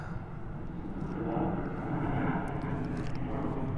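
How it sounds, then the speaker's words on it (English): An airplane passes overhead near Seattle on approach to SeaTac Airport, a steady, broad engine roar that swells slightly as it nears, heard outdoors with no talking. "A lot of planes. They're all flying into Seattle."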